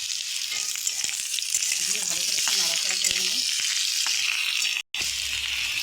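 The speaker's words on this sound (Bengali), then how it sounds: "এবার আমি পেঁয়াজ কুচিগুলো দিয়ে দেবো" Chopped onions go into a pan of browned, frying potatoes, raising a dense, steady sizzle up close, with occasional stirring taps and a brief dropout near the end.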